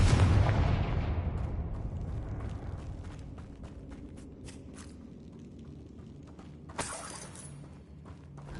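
A Confringo explosion spell in Hogwarts Legacy goes off with a loud, rumbling blast that decays slowly over several seconds, followed by scattered crackles and a brief sharp burst near the end.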